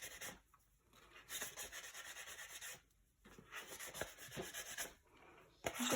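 A polymer clay button sanded by hand, quiet close scratchy rubbing strokes in several bursts separated by short pauses, with no talking.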